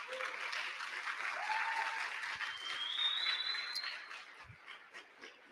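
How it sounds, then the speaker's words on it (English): A tech event audience claps for a group that installed Linux on laptops, with a steady, moderate round of applause from a room of people that thins out toward the end, a brief voice sound rising above it. "Can we give a round of applause to that?"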